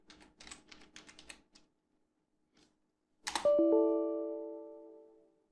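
Computer keyboard typing, a quick run of light clicking keystrokes up close, then a lone tap and a sharp click followed by a ringing tone that slowly fades.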